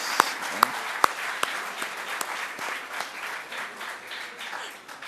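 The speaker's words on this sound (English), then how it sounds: "Welcome him with a huge round of applause." A crowd claps steadily, with a few sharp louder claps near the start before the applause settles into an even patter.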